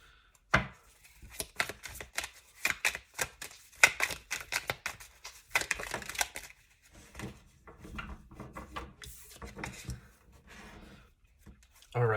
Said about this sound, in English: I'm going to continue shuffling and try to pull out 2 or 3 more cards